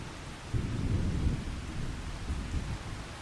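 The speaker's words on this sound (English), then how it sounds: "It's not only rain, it's thunder showers." Thunderstorm with rain in Farming Simulator 25: a low rumble of thunder rolls in and lingers over a steady wash of rainfall, with no talk.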